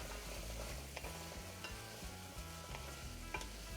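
Onions being stirred in a sizzling frying pan for a chicken salad sandwich, a steady bed of frying crackle with soft scrapes of the stirring utensil recurring at intervals, close and continuous.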